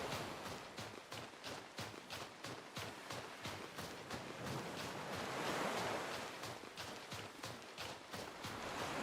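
Ocean surf from the Pokémon Violet video game rolls in a continuous, gentle wash, with a quick repeating pattern of soft taps like running footsteps layered over the waves, quiet and steady throughout.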